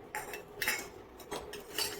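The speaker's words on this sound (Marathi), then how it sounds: "मिरच्यांना मध्यभागी कट लावायचा आहे आणि त्या मिरच्या तळून घ्यायच्या आहेत" A knife slits green chilies down the middle before frying: a few light, close metallic clicks and taps spaced irregularly, with no talking.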